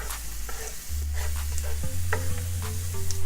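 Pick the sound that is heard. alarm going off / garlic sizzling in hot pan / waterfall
garlic sizzling in hot pan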